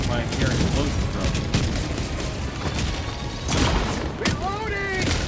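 Explosions rumble and crack in a Helldivers 2 firefight, several heavy booms and bursts scattered among gunfire and mechanical clatter, with a player's voice talking intermittently over the chaos.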